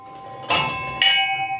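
A metal temple bell at the Sinhagad fort temple is struck twice, about half a second apart, each ring loud and close with a bright clang and a long shimmering tail.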